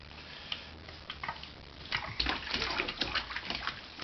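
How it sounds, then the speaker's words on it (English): A child splashes water in a bathtub during playtime, with irregular bursts of splashing and sloshing that grow busier toward the end, heard close up with no talking. "We like to play splashy, splashy in the bathtub, though."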